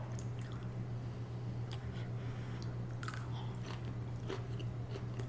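Close, quiet chewing and slurping of seafood udon noodles with shrimp, soft wet bites and squishes scattered over a few seconds above a low steady hum.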